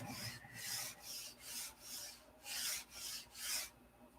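Close, quiet strokes of 180 grit sandpaper rubbing over balsa wood, about seven even back-and-forth passes in a steady rhythm with no talking.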